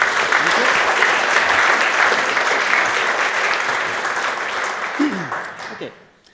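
A conference audience gives a long, steady round of applause to welcome a speaker at a programming talk, a dense even wash of clapping that fades out near the end, with a faint voice entering at the close.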